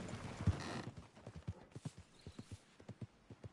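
Horse hooves clip-clop in Red Dead Redemption 2, a steady trot of roughly a dozen close, even hoofbeats, with a brief scuffing burst near the start.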